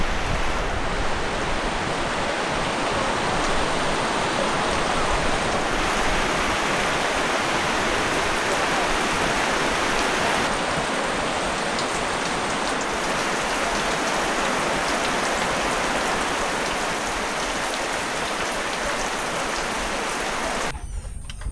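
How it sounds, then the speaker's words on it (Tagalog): Heavy rain pours down on a farm in a constant, dense hiss that fills the whole stretch, loud and unbroken, with no voices over it. "Yan na naman ang ulan."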